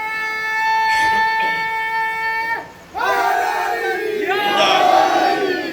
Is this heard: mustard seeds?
no